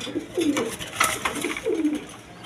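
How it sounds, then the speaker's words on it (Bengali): A pair of Rajgolla pigeons coo softly nearby, two low throaty rolling calls a second apart. "এখানে আরেক পেয়ারের রাসগোল্লা কবুতর"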